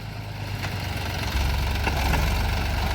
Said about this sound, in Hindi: सामने देखो KSD का रोटावेटर चल रहा, 1323 का गियरबॉक्स है, RPM बहुत ज़्यादा है इसके फिलहाल।